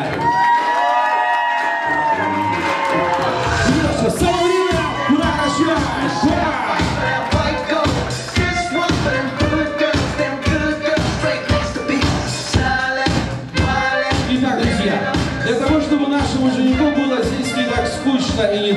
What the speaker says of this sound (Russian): Я прошу всех гостей максимально громко, звонко и задорно встретить нашего жениха. Громкие аплодисменты.